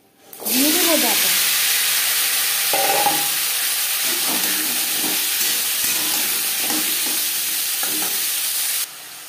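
Drumstick stems dropped into hot oil after bay leaf and five-spice tempering, setting off a sudden loud hiss that holds as a steady, close sizzle, with a voice briefly at the start and a few faint clinks.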